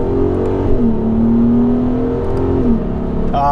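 A 2008 VW R32 engine heard from outside the car, a loud steady drone with a rising and falling rev, continuous and close without talk.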